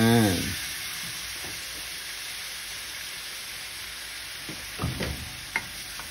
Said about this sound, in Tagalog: Gisa-gisa muna natin.